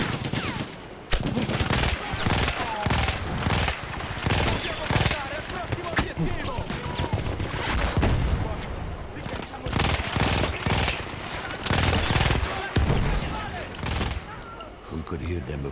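Battlefield 1 gunfire during an Italian campaign battle, dense bursts of rifle and machine-gun fire with booming impacts continuing loudly throughout, with voices mixed in.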